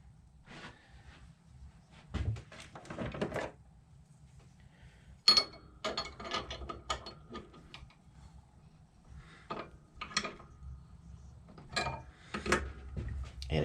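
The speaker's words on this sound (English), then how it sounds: "I'll screw it in the mandrel and then tighten the nut down" A nut is tightened on threaded rod on a wood lathe mandrel, heard up close as scattered metallic clicks, ratchety turns and small knocks that come in short bursts separated by pauses.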